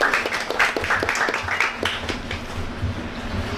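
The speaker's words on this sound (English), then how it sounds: "Give them a little round of applause" Mourners at a funeral in Penal give a short round of applause for a man and his two sons, scattered hand claps building into a moderate, close patter over a low background hum.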